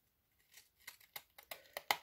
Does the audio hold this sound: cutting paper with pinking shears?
yes